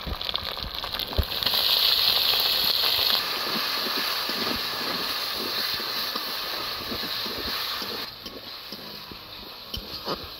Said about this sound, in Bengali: এবারে দিয়ে দিচ্ছি পেঁয়াজ গ্রেট করাটা।